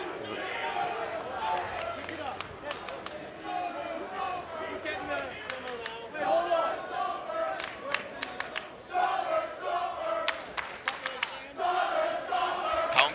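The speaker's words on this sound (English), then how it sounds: "crowd making some noise for Luke Hawx here." At a 2014 wrestling supershow a large indoor crowd cheers, shouts and chants for a wrestler, a dense roar that swells and surges with scattered claps and yells while an announcer talks over it.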